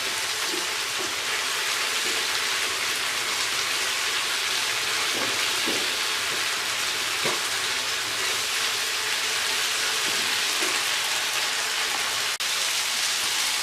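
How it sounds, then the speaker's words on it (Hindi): Chicken pieces frying on a hot tawa, a steady, loud sizzle with crackling spits and occasional sharper pops running the whole time without any talking. "पूरे 3 से 4 मिनट आपने इसको इसी तरह फ्राई करना है।"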